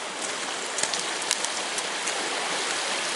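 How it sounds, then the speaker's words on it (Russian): A swollen river called Bobrovaya rushes past, a dense, steady broadband roar of turbulent water heard close up and continuously, with no voices. "а сейчас такая, знаете, бурная река."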